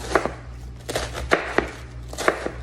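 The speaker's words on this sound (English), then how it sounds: "Then, I just slice it. Let's do some nice little slices on it." A knife slices through cabbage on a cutting board in a series of crisp, irregular chops, up close and clearly audible, with a low steady hum running underneath.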